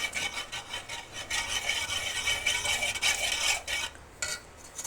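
Caramel pudding mixture is stirred in a pan over a medium flame, giving a steady scraping, rubbing sound with rhythmic strokes that is close and moderately loud, alone without talk.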